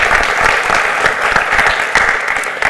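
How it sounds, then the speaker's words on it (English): Audience applause at a panel event on workforce skills, jobs and mobility, a dense steady clapping from a large crowd that stays loud and even throughout, with no talk over it. "So let's give them a round of applause."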